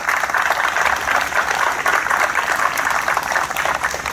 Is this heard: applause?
yes